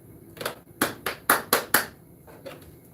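A run of sharp hand claps, about seven in quick uneven succession, loud and close, used to switch on a sound system in a home gamer workshop, with a short pause before the last two softer claps.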